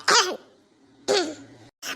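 Two harsh, throaty coughs about a second apart, followed by the start of a third, close to the listener.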